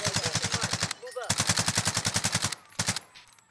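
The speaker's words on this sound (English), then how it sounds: "I hear shots on the left" Rapid automatic gunfire in Call of Duty Warzone, two long evenly spaced bursts of sharp shots with a shorter burst after, loud and close, under brief low voice sounds.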